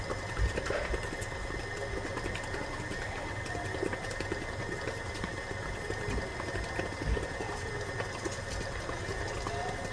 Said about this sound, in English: after mixing it using my KitchenAid mixer or any mixer that you have at home